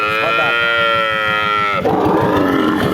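A Sindhi dairy cow at a village cattle market gives a long, loud, sustained moo that lasts most of the moment, then breaks off into a noisy rustle of market bustle.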